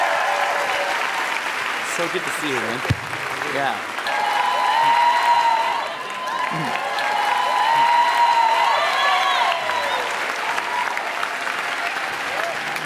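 An audience claps loudly in welcome for a guest at a Yogatry event, the applause rising and falling throughout while people talk and greet each other over it.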